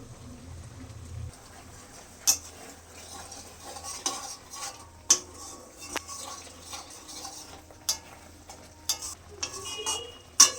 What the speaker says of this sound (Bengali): মশলাটা প্রায় কষানো হয়ে গেছে, আর একটু কষানো হবে।